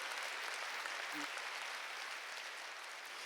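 Church congregation clapping in a steady, dense burst of applause that fills the space evenly from start to finish, loud and continuous with no voices rising above it.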